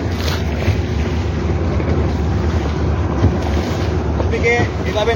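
Boat pitching through rough, choppy waves in strong wind, a steady loud roar of wind buffeting and rushing water throughout with no clear pauses.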